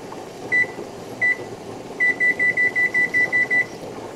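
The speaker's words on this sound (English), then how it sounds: "So I'm going to set my timer." A kitchen timer beeps during home canning as steam pours from the canner: a couple of separate short beeps, then a fast run of about ten evenly spaced electronic beeps over steady background hiss.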